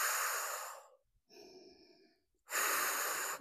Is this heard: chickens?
no